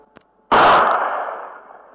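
A single sharp report from a small handgun in a city roaming video game, a loud burst with a long ringing decay and no voices.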